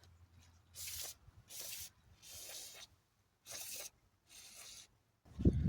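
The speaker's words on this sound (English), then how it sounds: "Now you can clean up the air filter base. Pretty dirty. Use some brake cleaner for that." Brake cleaner sprays onto a dirty lawn mower air filter base in five short, hissing bursts separated by pauses, close and fairly quiet, ending in a brief louder knock.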